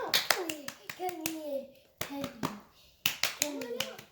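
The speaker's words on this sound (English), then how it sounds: "I think my claps are attracting her" Hand claps meant to attract a newly arrived puppy ring out in sharp, close bursts, mixed with excited children's voices talking between and over them.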